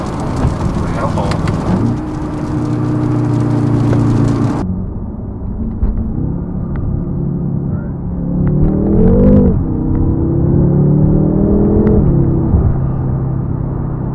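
A 2016 BMW M5 with a Dinan tune and modifications accelerates hard up a highway on-ramp, its engine droning and climbing in pitch through the gears with a loud, steady cabin rumble and a brief rise mid-pull.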